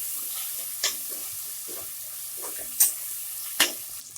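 Tomato being stirred into a sizzling masala base for a cauliflower, brinjal and potato pulao, a steady close frying hiss broken by a few sharp spatula scrapes against the pan.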